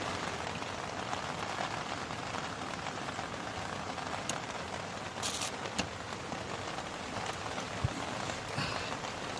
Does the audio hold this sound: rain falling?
yes